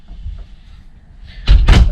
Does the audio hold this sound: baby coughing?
no